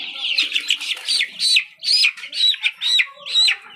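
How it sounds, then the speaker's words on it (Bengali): Sonali chickens on a poultry farm, about six weeks old, give a run of repeated high chirping calls in quick bursts, fairly close, with no talking. "এ দেখতে পাচ্ছেন সোনালি মুরগি"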